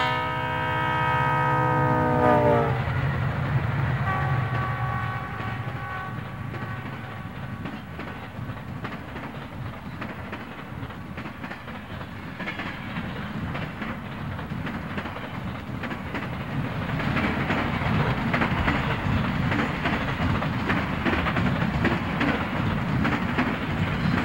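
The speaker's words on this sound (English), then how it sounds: "an EMD GP40 leads a four-unit eastbound freight train past the depot" A diesel freight train led by an EMD GP40, four units eastbound, rumbles past a depot, opening with a multi-tone horn blast, then a long steady roar of engines and rolling wagons with rhythmic wheel clatter.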